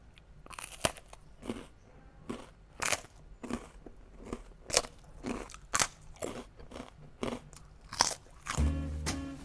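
Crisp Japanese seaweed rice crackers are bitten and chewed close to the mic, with a series of sharp crunches and crackles spaced out irregularly and no talking.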